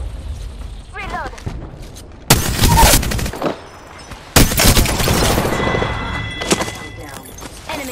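Apex Legends gunfire comes in two loud, sustained bursts of rapid automatic shots, each lasting about a second or more, with game ambience and scattered effects between them and a faint voice present.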